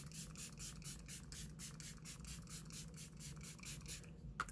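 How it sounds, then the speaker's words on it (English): Final Treat hyaluronic acid setting spray mists in a quick series of soft, airy pumps, each a short hissing puff in an even rhythm, close and quiet. "This sprays out as a fine mist."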